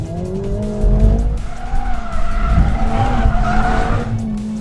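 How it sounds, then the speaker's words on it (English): A Mercedes-AMG A45S hot hatchback drifts fully sideways, its tyres squealing and skidding loudly and continuously over a strained engine drone. "fully sideways in a hatchback. Hot hatches just aren't supposed to do this."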